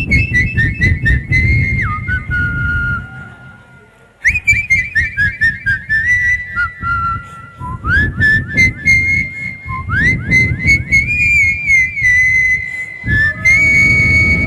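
A person whistles a lively melody up close, with quick trilling notes and sliding pitches in several phrases, pausing briefly between them.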